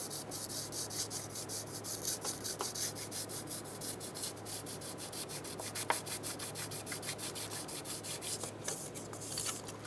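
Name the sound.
sanding valve cover mating surface with fine sandpaper on wood block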